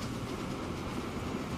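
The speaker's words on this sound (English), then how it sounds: "these are the old boxcars, but we've just built this train" A train of old boxcars rolls along in Transport Fever 2, a steady rumbling clatter of wheels that holds evenly through the short stretch with no voices.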